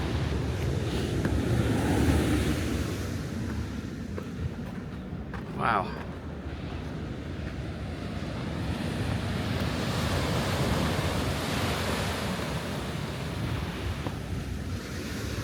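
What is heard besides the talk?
ocean waves surging below cliffs at Half Moon Bay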